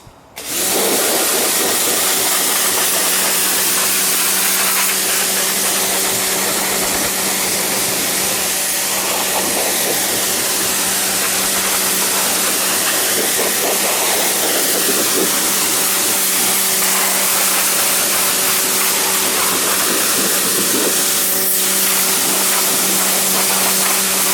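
A pressure washer, a Makita HW101, sprays iron gates with a wide spray, a loud, steady hiss and motor drone that barely changes for the whole stretch. No one speaks.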